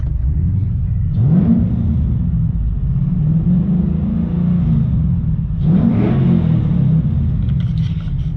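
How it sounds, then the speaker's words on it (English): A 2009 Ford Mustang GT 4.6L V8 engine idles with a deep rumble and is revved twice, each rev rising sharply then settling back to a low idle. "Go ahead and give this thing a couple of revs"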